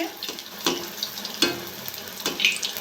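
Eggplant fritters (beguni) deep-frying in hot oil give a steady close sizzle and crackle, with sharper bursts and pops recurring every second or so and no talk.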